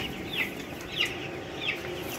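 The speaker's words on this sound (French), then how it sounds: "vous allez voir aussi qu'il y a des poules hybrides qui sont en train de circuler un peu librement." Hybrid hens roaming an urban poultry yard that holds about 1200 chickens, giving three soft, brief clucks at regular intervals over a steady background hum, fairly faint and without speech.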